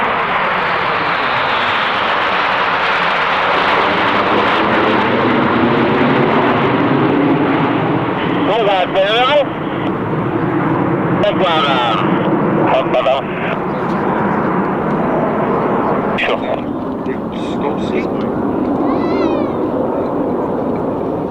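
Polish aerobatic team jets passing at the Fairford airshow, smoke streaming and undercarriage down for a touch-and-go, a loud sustained engine roar sweeping in pitch with a commentator talking over it.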